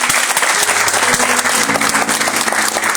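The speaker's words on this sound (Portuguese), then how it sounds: "Vamos aplaudir o Senhor." A church congregation applauds loudly and steadily during a worship service, dense clapping filling the room for about three seconds with faint sustained music tones underneath.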